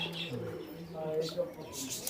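Pigeons coo softly on a farm, a pair of Indian and Pakistani high-flying birds, with faint chirps mixed in under quiet low background noise.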